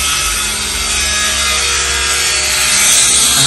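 Hand saw cutting wood for a plant pot, a continuous loud rasping stroke sound heard close up without any talking.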